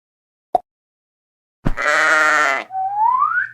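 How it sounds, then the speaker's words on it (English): A sheep in a children's farm animal puzzle game bleats loudly and close, one wavering call followed by a rising second bleat, after a brief click and silence. "sheep"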